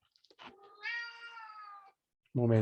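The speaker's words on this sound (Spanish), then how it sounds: "aquí llegó un personaje, llegó Yuki, mi gato" A house cat meows twice, close by: a drawn-out wavering meow followed after a short pause by a louder, shorter one, with a few small clicks before.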